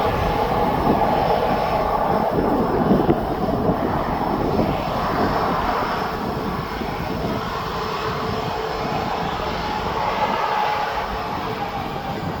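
Aircraft of the Venice flight at East Midlands Airport, a steady broad engine roar that holds throughout at moderate distance, swelling slightly early on, with no voices.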